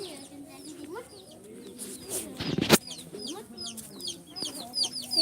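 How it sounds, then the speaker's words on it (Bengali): Chickens cluck and coo close by outdoors, with other birds chirping in the background. A loud rustling clatter bursts out midway, then the soft, irregular clucking goes on. "এই যে হচ্ছে আমাদের মুরগি"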